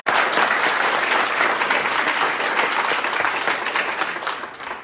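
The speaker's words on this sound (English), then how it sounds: "Let's give a big round of applause to our co-chairs." Sustained audience applause for the co-chairs at the MOCA Awards Night, a dense, steady wash of many hands clapping that holds loud throughout before easing slightly at the end.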